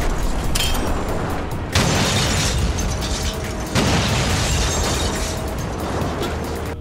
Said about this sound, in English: The explosions in this game look really